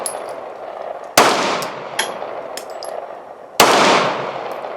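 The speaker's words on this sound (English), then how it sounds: "I'm going to go ahead and make a couple of shots." Two sharp, loud pistol shots fired outdoors at night with a light-equipped handgun, each a sudden crack followed by a lingering decay, separated by a few seconds with faint clicks between.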